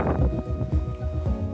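Gusts of wind blow outdoors, buffeting the microphone in low rumbling bursts that rise and fall in an uneven rhythm.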